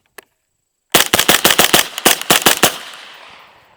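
One isolated shot, then a rapid string of about a dozen loud, close semi-automatic rifle shots from an IWI Carmel fed by an ETS AR magazine, with a ringing echo tail.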